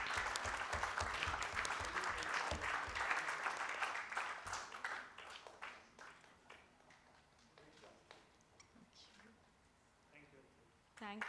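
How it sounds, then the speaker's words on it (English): Audience applause at a WZCC Pune conclave, dense and loud at first, then thinning into scattered claps and fading, with a voice speaking near the end. "So please, a big round of applause for him."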